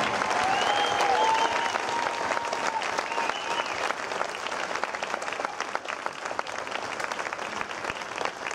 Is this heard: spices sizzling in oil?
no